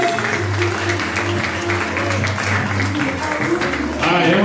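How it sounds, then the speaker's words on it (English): Audience applause at a hypnosis show during a bar mitzvah, a steady broadband patter of clapping running the full length at moderate loudness, with a low music bed underneath. "Come on, give your stars a round of applause."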